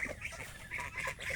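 Ducks on a river give a short burst of honking, quacking calls, several in quick succession at moderate distance over faint outdoor background.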